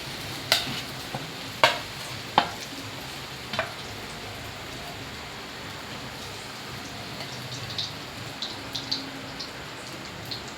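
A fine paste sautéed in hot ghee, slightly darkened from frying dry fruits earlier, gives a soft continuous sizzle with a few sharp spoon taps and scrapes near the start, then quieter intermittent clicks.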